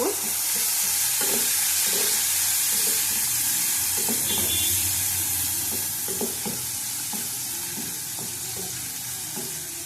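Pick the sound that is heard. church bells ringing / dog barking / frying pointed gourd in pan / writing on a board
frying pointed gourd in pan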